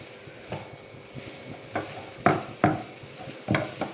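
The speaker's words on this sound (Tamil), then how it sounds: "இப்போ எல்லாத்தையும் ஒன்றா அப்படியே மிக்ஸ் பண்ணிக்கணும்." Ingredients for uppu urundai are mixed together in a pan, with soft scraping stirs against a faint sizzle and a handful of sharper strokes spaced unevenly, close by and moderately loud.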